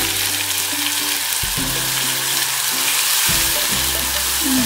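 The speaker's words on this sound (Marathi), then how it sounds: "तेल तापलं म्हणजे आपण हा मसाला वाटतो त्याच्यात टाकून घ्यायचा" Spiced masala paste sizzles and fries steadily in hot oil in a home kitchen pan, a continuous loud hiss with bursts as the paste is stirred, no voices.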